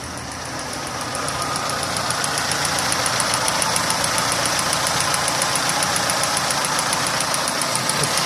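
A car engine idles running only on gas after its 3-ohm injectors were replaced with 2-ohm ones, close to stalling. The loud, steady running noise carries a fast, regular ticking throughout.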